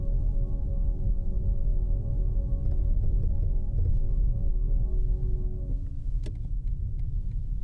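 A BMW i7 electric sedan held with brake and accelerator pressed at once gives a steady low cabin rumble and hum, continuous and close, with faint clicks near the end.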